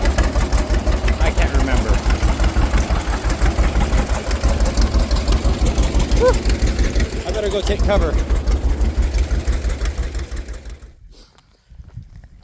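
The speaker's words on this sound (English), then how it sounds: "But here is this stationary Model D engine." Antique stationary Model D engine running at a tractor show, a steady rapid chugging beat under a voice, loud and close, before the sound cuts out near the end.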